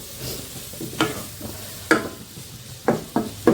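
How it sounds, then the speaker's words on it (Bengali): A spicy kuli pitha mixture stir-fried in a pan, with a continuous sizzle broken by repeated scraping stirs of a spatula, close and fairly loud. "এটা আমি সুন্দর করে ভাজি ভাজি করে নেব"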